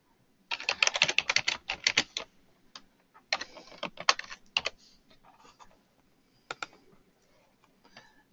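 Computer keyboard typing comes in quick bursts of clicky keystrokes with short pauses, close and fairly crisp in a quiet room.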